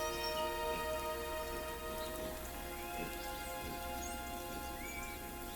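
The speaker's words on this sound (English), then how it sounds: "Inconveniently timed heavy rainfall disrupts their sense of smell" Heavy rainfall in a wild setting, a steady dense patter of drops hitting surfaces that holds at an even level throughout, with no voices.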